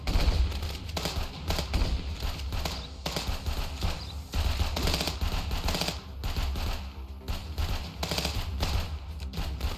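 Semi-automatic rifle fire in the police video game Contraband Police, a dense run of rapid repeated shots mixed with other game sounds throughout, loud and continuous with no pauses.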